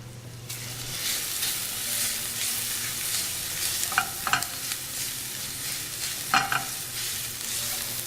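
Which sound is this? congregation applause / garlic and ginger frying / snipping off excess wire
garlic and ginger frying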